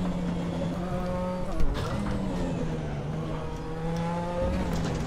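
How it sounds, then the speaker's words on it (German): Nissan Silvia Turbo race car in the RaceRoom sim at Suzuka, its engine holding a steady high-speed drone with slight pitch shifts throughout, loud and close with no talk. "Die Beschleunigung ist schon nicht schlecht, ne? 260 haben wir jetzt auf der Uhr."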